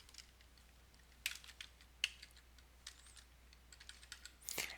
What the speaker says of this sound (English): now I'm going to type in sales